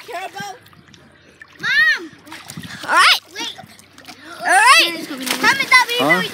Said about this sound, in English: Could y'all stop splashing?